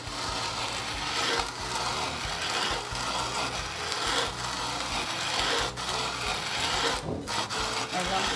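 Coffee beans being ground by hand in a manual grinder for country-style coffee, a steady gritty scraping and crunching that runs continuously and close.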